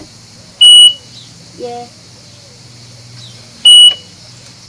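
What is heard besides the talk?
beep when turning the boat engine key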